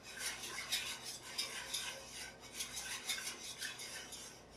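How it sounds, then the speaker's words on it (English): A whisk beats milk into a roux in a pan for a lobster mac and cheese sauce. Rapid, continuous scratchy strokes sound close but quiet, without talk. "So we're going to whisk that, whisk that,"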